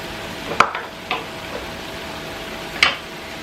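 A spoon stirring a Nigerian stew in a pot: a few sharp, isolated scrapes and knocks against the metal, spaced apart over a quiet background hiss.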